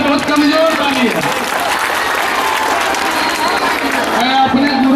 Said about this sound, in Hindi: जोरदार ताली हो, बहुत कमजोर ताली है।